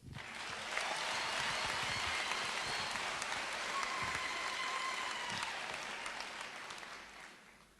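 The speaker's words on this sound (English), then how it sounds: "Let's repeat again a round of applause" Large audience at a university chancellor inauguration ceremony applauds steadily for several seconds, a dense wash of clapping that swells and then tapers off toward the end.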